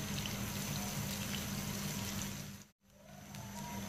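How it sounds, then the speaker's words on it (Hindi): Sliced onions fry in ghee over medium heat for a smoky mutton dish, a steady close hiss with a low hum underneath that briefly cuts out near the end. "ये प्याज फ्राई हो रही है, इसको हम 2 मिनट के लिए इसी तरह फ्राई कर लेंगे मीडियम आंच पे।"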